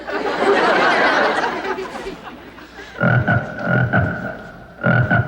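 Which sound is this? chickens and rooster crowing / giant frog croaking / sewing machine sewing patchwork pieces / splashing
giant frog croaking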